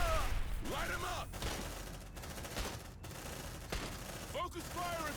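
Marines firing weapons in the video game Aliens: Dark Descent, with dense bursts of rapid gunfire mixed with game sound effects and shouted voices over the shooting.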